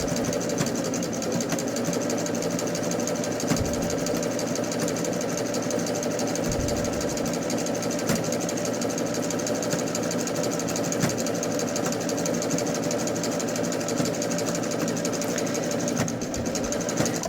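Sewing machine fitted with a ruffler foot gathering fabric, running in a fast, continuous mechanical whir with a fine rhythmic clatter, close and steady throughout with no pauses or talk.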